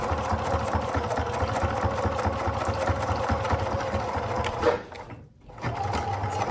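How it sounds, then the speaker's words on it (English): A sewing machine runs steadily while stitching a camper van window curtain, giving a loud continuous mechanical whirr that cuts out briefly near the end and then resumes. "I'm going to stitch all the way down to the end."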